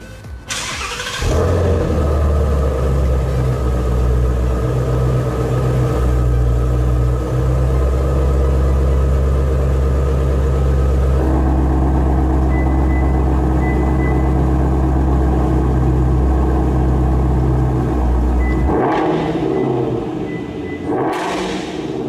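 A Ford Mustang GT350's hand-built engine cranks and fires after a second, then settles into a loud, deep, steady idle for about eighteen seconds before shutting off.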